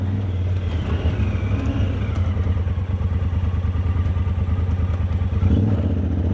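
A tuned Talon's engine runs in sport mode, a steady, loud throbbing hum with a faint mechanical clatter running underneath throughout.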